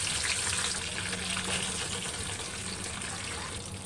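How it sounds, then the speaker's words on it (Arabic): Eggplant frying in oil, a dense, steady sizzle and bubbling hiss at close range that fades slightly toward the end, with no clear talking. "قلينا البتنجان نطلعه بقى"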